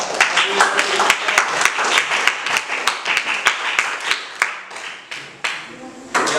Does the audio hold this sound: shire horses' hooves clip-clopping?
no